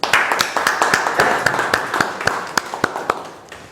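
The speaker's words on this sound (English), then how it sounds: "A huge round of applause for him." Applause at a Toastmasters club session after a speaker's talk, a small group clapping with distinct, sharp individual claps standing out over the wash, loud and close, thinning out toward the end.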